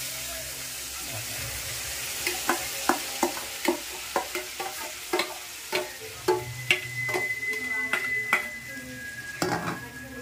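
A spoon stirs ridge gourd paste, ground with garlic and green chilli, as it fries in a pan. Rhythmic scraping clicks and knocks sound against the metal over a soft, continuous sizzle.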